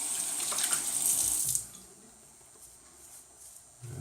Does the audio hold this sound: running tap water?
yes